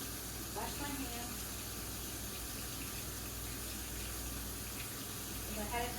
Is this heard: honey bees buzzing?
no